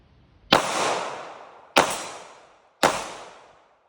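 Three sharp 9mm pistol shots from a Hi-Point C9 on a 3D-printed EBT-9 frame, evenly spaced about a second apart outdoors, each a loud crack with a long fading echo.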